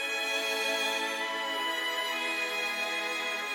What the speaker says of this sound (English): We just have the strings and the violin at the last bit for a bit of softer end.